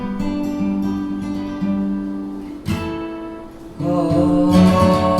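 Acoustic guitar plays the closing passage of a song, ending on a G, with sustained strummed and picked chords that swell into a fuller, brighter final section, close and alone.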